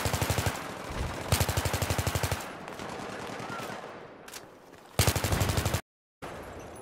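Automatic gunfire in a video game, several long rapid bursts of evenly spaced shots separated by short pauses, loud and close, with a brief silent gap near the end before firing resumes.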